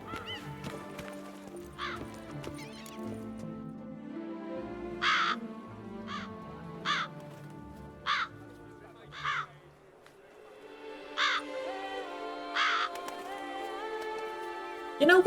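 Crows cawing in The Witcher 3 video game, a series of short harsh caws spaced a second or two apart over a soft musical and ambient game backdrop, no talking.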